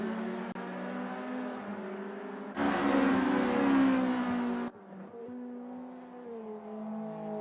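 Race cars in the SRA GTi Challenge running wheel to wheel, engines droning with steady harmonic tones that surge louder as a car passes close, then settle back to a slightly fainter drone.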